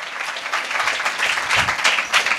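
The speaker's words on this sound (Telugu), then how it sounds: "Just give the claps." Church congregation clapping together at a Sunday worship service, a steady crowd of hands filling the room for a couple of seconds without a break.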